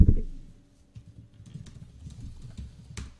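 Typing on the keyboard of an Asus Zenbook 13 (2018) laptop, a run of soft, hollow plastic key clicks in an irregular patter after a brief louder knock at the start.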